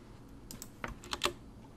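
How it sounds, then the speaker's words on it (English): Quick taps on a computer keyboard while a search term is entered in Windows settings, a short cluster of light clicks close by with no talking. "Let's type in some other stuff."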